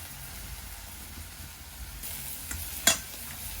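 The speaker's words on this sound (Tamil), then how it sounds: "நல்லா வதங்கி வருது" Ingredients sautéing in a pan for a Kilinochchi-style prawn curry give a soft, steady sizzle, faint and close, with a brief sharp scrape or clatter near the end.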